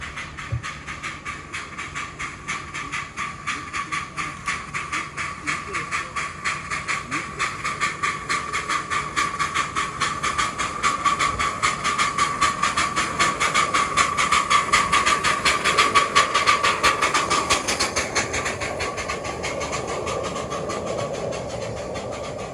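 A narrow gauge steam locomotive named Lion, towing the engine Lily along the South Downs Light Railway during a gala cavalcade, chuffs in a steady rapid beat with a constant hiss that builds louder as it passes close by.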